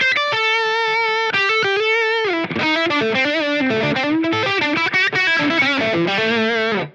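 PRS Archon electric guitar played through a Line 6 Helix Archetype Lead distortion tone, sustained notes then a fast, searing lead run, close and loud with no voices.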